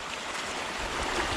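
Flood water rushes down a waterfall path in a steady, broadband wash, close and continuous for a brief moment.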